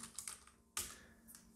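Soft keyboard typing while renaming a material in Blender 2.92, a few quiet clustered keystrokes with one firmer press in the middle, no voices.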